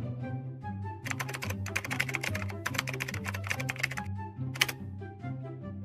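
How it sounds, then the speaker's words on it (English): Quick bursts of keystrokes clatter on a computer keyboard as a search phrase is entered, close and crisp, in several rapid runs separated by short pauses over a steady background hum. "Type the following phrase into the search box."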